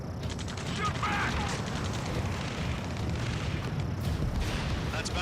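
Dense, continuous rattling gunfire fills an Ace Combat 7 battle scene, with steady mechanical bursts and a low rumble throughout.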